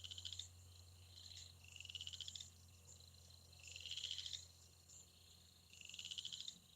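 Frogs croak in rapid trilling bursts that rise and fade in repeated waves, faint and distant against a quiet outdoor background.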